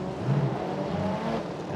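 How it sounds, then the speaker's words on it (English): Rumbling startup of GTM supercar race car engines in the pits at a Super Car GTC street circuit round in Chonburi, a steady low droning roar heard from inside a booth, continuous and moderately loud without talk. "what you're hearing right now from the rumbling in the booth here is actually the startup sound for some of the cars here"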